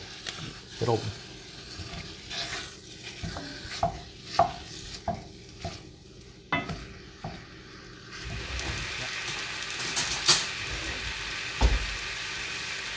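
About 1.5 pounds of ground beef browning in a pan for chili, broken up with a utensil: irregular clunks and scrapes sound over a low sizzle that grows louder and hissier near the end, with a voice talking at times.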